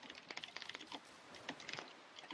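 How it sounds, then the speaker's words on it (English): Rapid clicking of mechanical keyboard keys in irregular bursts, fairly close and moderately loud, with no voices. "I just hear mechanical keyboard as my background noise"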